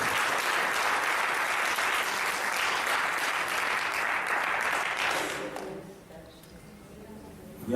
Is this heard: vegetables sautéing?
no